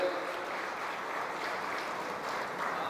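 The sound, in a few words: audience applause for the minister at event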